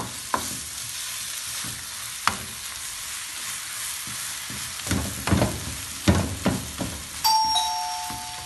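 Chicken chaap frying on a hot tawa: a steady sizzle with sharp metal clanks and scrapes of a spatula, growing busier toward the end, where a brief ringing tone also sounds.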